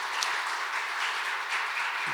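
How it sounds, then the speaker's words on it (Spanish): Audience applause at an academic talk on medicine, neuroscience and education, a steady dense clapping from a crowd for about two seconds, with no talking. "Un aplauso"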